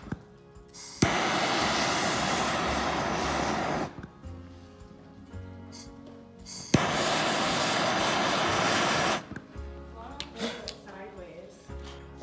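A propane torch heating a joint for silver soldering roars loudly in two long bursts of a few seconds each, with quieter gaps between where someone talks.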